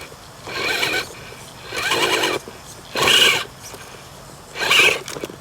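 An Axe 3300 motor with a small pinion and low gearing drives an RC crawler. It gives four short, loud bursts of high, whining gear noise, each about half a second to a second long, separated by brief pauses.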